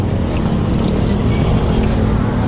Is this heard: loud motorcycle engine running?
yes